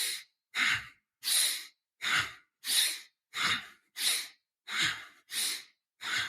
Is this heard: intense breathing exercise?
yes